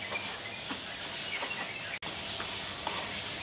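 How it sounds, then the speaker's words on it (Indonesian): A whole chicken stirred in a hot pan over high flame while cooking an Indonesian onion chicken dish, with steady loud sizzling and frying and scraping stir strokes throughout, one brief gap midway. "Diaduk supaya rata."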